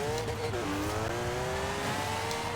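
A tuned 1963 VW Beetle wheelie drag build in Forza Horizon 4 launches off the e-brake, its engine revving high and climbing steadily in pitch, loud and close, with a faint tire squeal.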